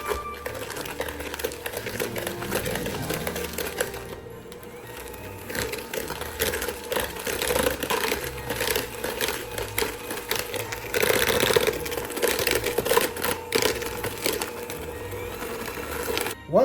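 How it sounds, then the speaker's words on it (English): Electric hand beaters whir and rattle while mixing brown sugar and vegetable oil in a bowl for chocolate crinkle cookies, a continuous close grinding buzz that fluctuates with the mixing. "now you're going to use your beaters to mix those together"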